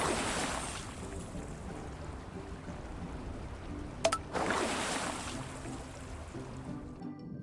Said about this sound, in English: Miss Rabbit's tour continued with a ride down some rapids.